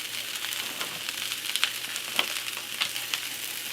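Sliced mushrooms sizzle in a hot pan for a chicken and broccoli stir fry, a dense continuous frying hiss up close with scattered crackles and light stirring taps.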